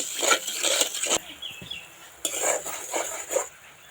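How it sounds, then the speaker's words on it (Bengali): A utensil stirs thick sugar syrup in a metal wok, giving two bursts of scraping and clinking metal close up, with a short pause between them and no speech. "নাড়িয়ে চাড়িয়ে ঠিক এরকমই কিন্তু ঘন করতে লাগবে"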